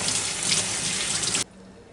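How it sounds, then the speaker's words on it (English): Tap water runs briefly into a sink over boiled eggs, a loud close splashing stream that cuts off abruptly after about one and a half seconds, leaving faint room noise. "Rinse them off right quick."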